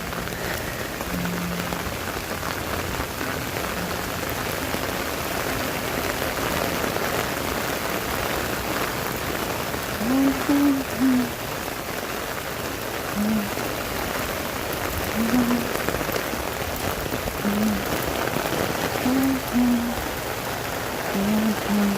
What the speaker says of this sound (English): It's raining. It's really raining.